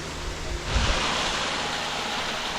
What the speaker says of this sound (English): A little cascade bit